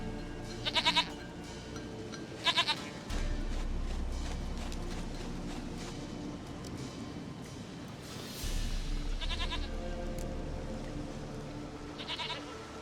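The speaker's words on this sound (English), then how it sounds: "Goat of mine, dearest, sweetest goat." Goats bleat in The Witcher 3 video game, several short quavering cries spaced across a rumbling, music-filled background with low drones.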